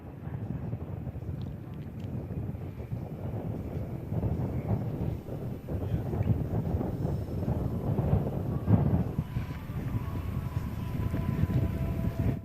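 An aerobatic airplane engine at the 2024 Hill Air Show gives a broad, distant, fluctuating roar. The sound is buffeted by outdoor wind noise and has no talk over it.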